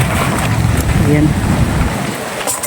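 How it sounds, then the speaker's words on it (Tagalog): Strong wind buffets the microphone outdoors as rain approaches, a loud, rough rushing roar that eases near the end, with a voice briefly audible. "Medyo mahangin dito. Mahangin at may dalang ulan."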